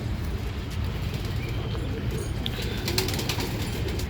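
Pigeons in a loft coo in a low, constant murmur under broadband background noise, with a few faint clicks and no talking.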